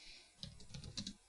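A computer keyboard clicks through a short burst of quick keystrokes as a command is entered, heard close and quiet with no talking.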